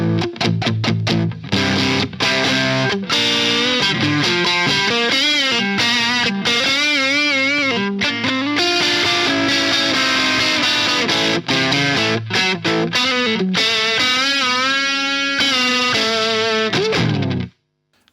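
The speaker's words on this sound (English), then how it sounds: "I really like this as a low gain distortion high gain pedal." Electric guitar played through an Iron Horse V3 distortion pedal set to low gain, a loud run of chords and melodic lines with gritty crunch, held notes and bends over about seventeen seconds before cutting out abruptly.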